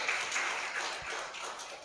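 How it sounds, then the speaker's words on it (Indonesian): A church congregation applauds in praise, steady and moderately loud, and the clapping fades slightly toward the end. "Sekali lagi berikan tepuk tangan yang meriah bagi Tuhan"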